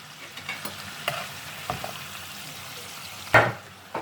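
Chopped onion, one medium, cooking gently in a pan for an Indian coconut-milk rice dish; a soft, steady sizzle with occasional light clicks of stirring, fairly quiet and close, no talking.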